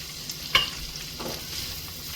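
Corn and mixed vegetables sautéing in a pan for a creamy pasta, a soft low sizzle with a brief clatter of stirring near the start, no voices.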